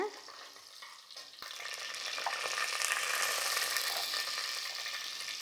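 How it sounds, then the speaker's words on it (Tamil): Mint leaves crackling in hot oil while tempering for chicken kurma, a sizzle that swells after a sharp tap and settles into a steady close fry, no voices. "புதினா கொஞ்சமாக போட்டு தாளிச்சுக்கணும்"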